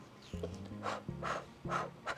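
Rhythmic heavy breathing during a pilates core workout, three or four strong breathy exhales in quick succession, close and fairly quiet, with faint low hums and rubbing between breaths.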